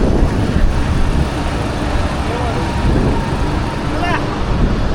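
Road traffic rumbles steadily with wind buffeting the microphone, a dense continuous engine noise during a Kolhapur wedding outing, with people talking over it.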